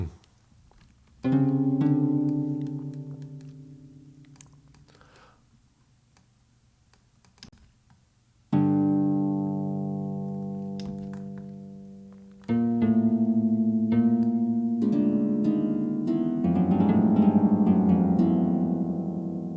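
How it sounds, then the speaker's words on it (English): Dungeon synth passage built from a brittle, synthesized plucked-string texture: sparse sustained tonal notes entering in separate phrases, then thickening into layered chords, played alone without voices. "I'm going to start with sort of a brittle texture of just a plucked string instrument"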